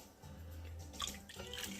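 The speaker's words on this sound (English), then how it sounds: "and put them in that cold water" Noodles for Vietnamese spring rolls being lowered into a bowl of cold water, giving a faint, brief splash and trickle of water in a quiet kitchen.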